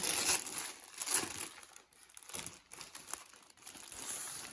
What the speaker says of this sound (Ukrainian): зараз я відкрию цей пакет і дістану саме полотно